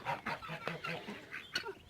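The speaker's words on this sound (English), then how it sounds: "that's a meanie goose" Goose honks repeatedly amid a flock of chickens at feeding time, several harsh nasal calls close by in a busy, noisy barnyard.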